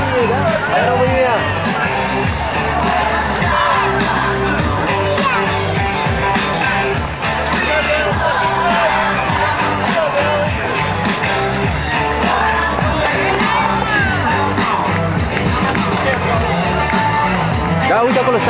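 Roadside spectators at the Bucharest International Half Marathon cheer and shout continuously, a loud, dense crowd roar with voices calling out close by.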